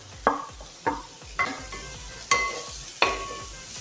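Cabbage and strips of capsicum being stir-fried for chicken fried rice: five distinct scraping tosses of a spatula in a pan, roughly evenly spaced, each followed by a soft hiss of sizzling, close and moderately quiet.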